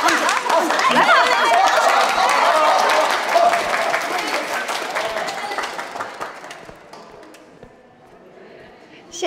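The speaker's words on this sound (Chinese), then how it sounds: "大家掌声。" An audience claps loudly for a singer about to perform, a dense, sustained round of applause mixed with crowd chatter that gradually thins and fades out.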